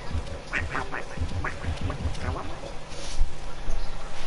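A person imitates a duck, making a quick series of nasal quacks in rhythmic bursts, close and fairly loud, followed by talk and laughter from other players.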